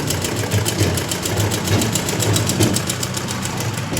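A sewing machine stitches a blouse, running as a loud, steady, fast mechanical whir with a rapid even ticking rhythm close by.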